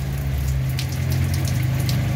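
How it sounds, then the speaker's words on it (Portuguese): A heavy late-afternoon downpour in Joaquim Gomes, Alagoas, in the Zona da Mata, gives a loud, unbroken wash of rain with a deep rumbling undertone and occasional louder splatters, steady throughout and without voices. "muita chuva aqui, viu?"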